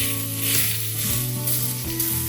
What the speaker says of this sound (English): Now you can see 3 minutes it has seared the steak nicely.